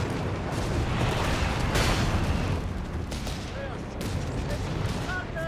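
Battle gunfire from Company of Heroes 3, a dense continuous wash of shooting and distant booms filling the whole stretch, with faint voice fragments mixed underneath.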